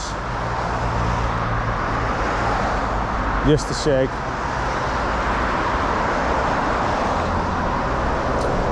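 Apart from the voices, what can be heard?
passing car traffic noise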